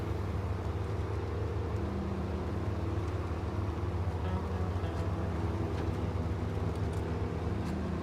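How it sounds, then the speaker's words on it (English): A rough, straining truck engine in a bridge-building video game, a constant low rumbling drone with a steady idle hum throughout, no speech. "this truck sounds like he's been partying for 2 weeks"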